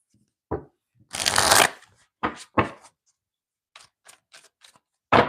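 A tarot deck is shuffled during a card reading, with a long riffle burst, several sharp slaps and lighter ticks of cards being laid and tapped, close and crisp, with quiet gaps between.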